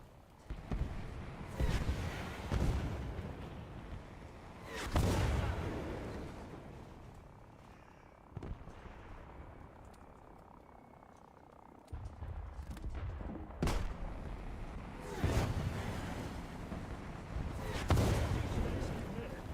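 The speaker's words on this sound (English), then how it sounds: "Was that like 6 missiles he fired?" Repeated missile launches in a video game, with several loud bursts and booming blasts spaced across the stretch over a continuous rumbling background.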